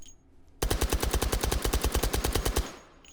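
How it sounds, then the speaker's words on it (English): A UMP45 submachine gun in a VR video game fires from the hip in one sustained fully automatic burst of about twenty rapid, evenly spaced, loud shots lasting two seconds, then stops abruptly. "Let's fire this from the hip."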